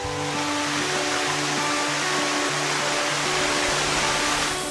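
A waterfall close to the airport and capital in Taiwan roars in a steady, loud, broadband rush of falling water that fills the scene without pause; no voices are heard.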